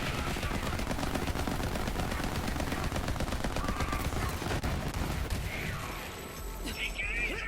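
Rapid automatic fire from an assault rifle in Borderlands 3, dense and continuous bursts at close range for most of the stretch, easing off near the end as other game sounds take over.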